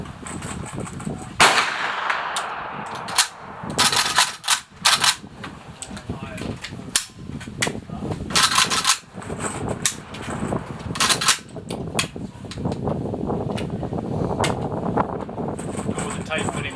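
An IO AK47 rifle fires during a test session, with sharp, loud gunshots in single shots and short clusters at irregular intervals and scattered handling noise between them.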